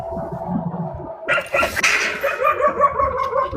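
Dog barking in a yard at night, a burst of sharp, close barks and yips starting partway through and continuing in a quick, uneven series over a dull background.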